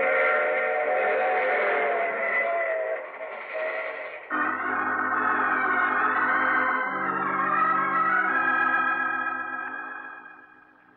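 Train sound effect in an old radio drama, a sustained chord-like whistle tone that shifts pitch midway over a low rumbling rhythm, steady and fairly loud, then fading toward the end.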